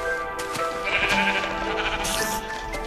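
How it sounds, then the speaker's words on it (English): Sheep bleating in the video game Minecraft, a loud wavering bleat over steady game music, with a second bleat near the end. "I see the sheep that I made."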